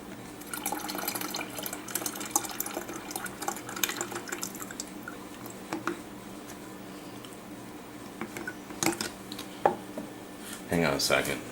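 Filtered water is poured into a container in a kitchen, with trickling, dripping and light clinks of vessels at close range, a louder splash near the end.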